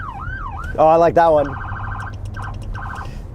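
Siren tones from a 2019 Dodge Charger Enforcer police car cycle through several patterns: a wailing sweep, a loud harsh yelp burst, then rapid pulsing electronic tones, heard close, with a brief remark spoken over it.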